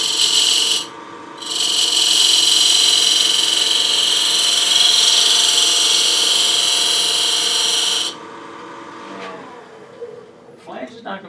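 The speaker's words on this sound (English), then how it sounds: "I'm going to use this refining tool" A sharpened old Craftsman refining tool cuts the flange of a wooden clamshell box on a lathe, giving a loud, steady hissing scrape that breaks briefly, runs for several seconds, then stops, followed by quieter lathe hum and small knocks.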